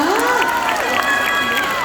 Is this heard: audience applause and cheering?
yes